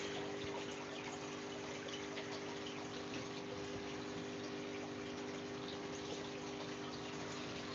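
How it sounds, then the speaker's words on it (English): Aquarium waterfall pump runs with a continuous, even rush and gush of flowing water and a faint steady hum, quiet and unbroken throughout with no voices. "Just got to have to turn the waterfalls off."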